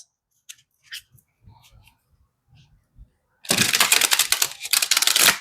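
A few faint papery taps and soft rustles, then a burst of loud, rapid riffling as a deck of tarot cards is shuffled close by.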